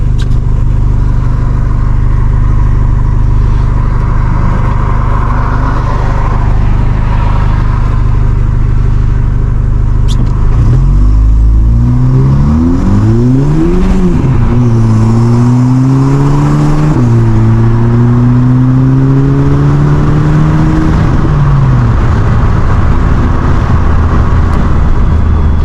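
A tuned Volkswagen Golf GTI engine idles steadily, then revs up hard to about 5,500 rpm several times in rising and falling sweeps, loud and close, before settling back to a low idle.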